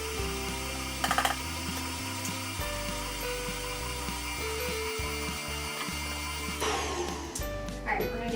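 An electric mixer beats powdered sugar into lemon cupcake frosting with a steady mechanical whir and rattling gear noise, close and continuous, with some irregular clicks as it runs.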